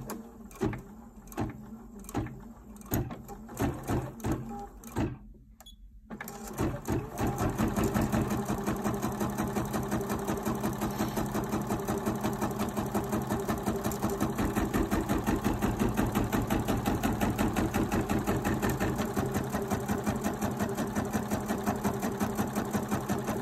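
Bernina 790 sewing machine stitching an applique basting box. Rapid, regular stitching comes in short bursts, pauses briefly, then settles into a long, steady mechanical run, close and clear with no talking.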